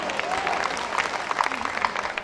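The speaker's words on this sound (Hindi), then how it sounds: "ताली बजाओ।" An audience at a Hindi poetry gathering (kavi sammelan) breaks into applause, a burst of fairly close crowd clapping that carries on evenly for a couple of seconds.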